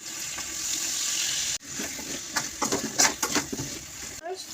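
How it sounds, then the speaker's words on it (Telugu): Bitter gourd pieces go into hot oil and fry with a steady sizzling hiss that breaks into a cluster of sharper crackles and pops, close and fairly loud. "ఆయిల్ వేడెక్కిందండి. ఇప్పుడు ఈ కాకరకాయ ముక్కలు విసిరేద్దాం."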